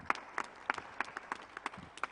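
A small audience claps sparsely for a speaker at a presentation on rangeland management, roughly a dozen distinct, fairly faint hand claps in an uneven rhythm.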